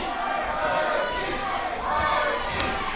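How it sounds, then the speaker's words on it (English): Crowd at a wrestling show roars and cheers loudly and without a break, a dense wall of shouting voices that holds steady throughout. "This whole entire place is going nuts for Mikey O'Shea."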